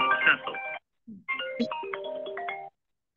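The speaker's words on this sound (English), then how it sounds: "Somebody's phone's ringing." A phone ringtone plays a short electronic melody in two bursts with a brief pause between, fairly quiet and nearby.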